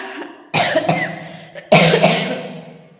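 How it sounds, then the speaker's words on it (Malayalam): Two harsh, close coughs, each a short burst followed by a fading rasp, separated by about a second. "ചുമ മാറിയിട്ടില്ല കേട്ടോ"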